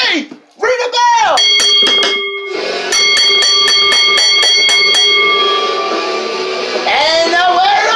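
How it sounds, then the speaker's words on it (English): A ringside bell clangs repeatedly at the end of an ECW professional wrestling match, loud sharp strikes ringing out over crowd noise and an announcer's voice. "Ring the bell."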